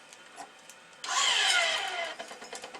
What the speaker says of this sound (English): I'm going to pull tension on the short side here on the main string